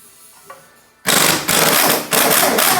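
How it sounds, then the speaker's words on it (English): A power wrench running at full power hammers on a Honda Civic Del Sol axle nut, bursting in abruptly after a quiet moment into loud, rapid rattling impacts in two or three close bursts. "Let's go with trying to take the nut off first on the back side. Sure we're on full power."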